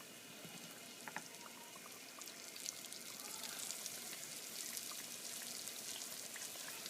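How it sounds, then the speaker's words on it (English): Steady crackling sizzle of chicken pan-frying in a little hot oil, with faint popping spatters rising slightly over several seconds. "You can see it's starting to sizzle."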